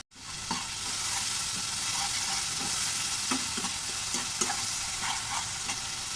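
Fish and potatoes fry steadily in a pan with a constant sizzle, while a spoon scrapes and stirs through them in scattered clicks and knocks, close and fairly loud with no talking.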